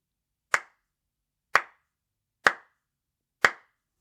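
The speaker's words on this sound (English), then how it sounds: "while continuing his slow clap" A listener gives a slow clap after a story: four sharp, isolated hand claps spaced about a second apart, close and crisp against silence.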